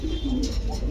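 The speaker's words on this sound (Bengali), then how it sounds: "এত মোটা মোটা এত বড় সাইজের কবুতর।" Large, heavy pigeons of fancy breeds such as Mukhi, King, Beauty, Danish and Lahori cooing close by in a brief, steady burst, with low murmuring coos under a busy background.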